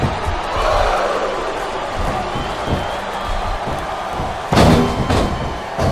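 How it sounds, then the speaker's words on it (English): A crowd chants and roars in a WWE SmackDown vs RAW 2007 Ironman match between Jillian Hall and Trish Stratus on Xbox 360, a steady, loud arena din with thuds of ring action and a louder surge near the end. "I'm not sure I agree with what the crowd is chanting, JR, but I guess it's their right."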